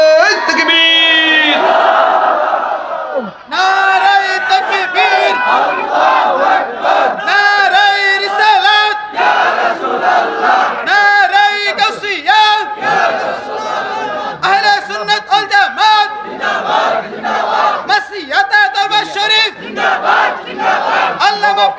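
A large crowd at a Bangla Islamic waz gathering shouts Allahu Akbar back to a Nara-e-Takbir call, loud chanted bursts repeating many times in quick succession.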